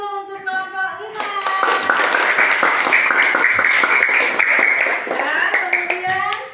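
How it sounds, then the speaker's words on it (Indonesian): Applause from a group of students after a classroom presentation, a dense burst of clapping that swells in and holds steady for several seconds before tapering off, with voices talking at the start and end. "Kita beri aplaus dulu untuk kelompok 5"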